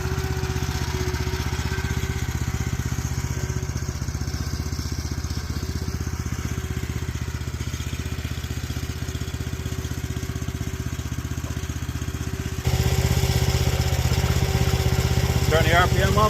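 A small gas engine on a post hole digger runs steadily at a shop foundation site, a close, loud, even idle-like drone that steps up slightly in pitch and volume near the end, with people talking faintly over it.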